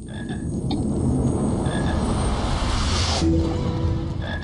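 A chocolate frog in a Harry Potter video game croaks loudly and continuously over a dense game soundscape, with a few short bright chirps mixed in and no talking.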